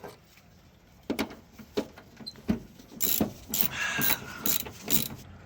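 A magnetic socket wrench ratchets nuts off a 1967 Plymouth Barracuda, a run of quiet, uneven clicks that grows busier and louder toward the end, with no voices.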